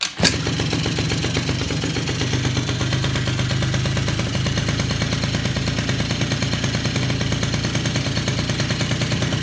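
A 2005 Polaris Predator 50 quad engine runs with no battery fitted, a steady close buzzing idle that continues unbroken after a brief start.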